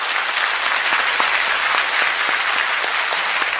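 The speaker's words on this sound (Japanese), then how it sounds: "ミュージシャンの皆さんに温かい拍手を送りましょうか。" A concert audience in a hall applauds the musicians after a song, a loud, steady wash of many clapping hands that lasts throughout without a break.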